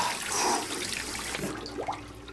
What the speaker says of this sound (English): What's wrong with your faucet? It's been leaking for a week already.